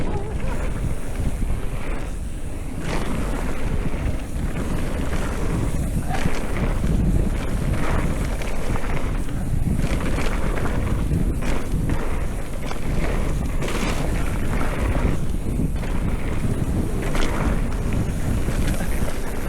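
A steady headwind blows hard across a moving boat, a constant loud roar of wind noise on the microphone with water rushing and splashing beneath it throughout.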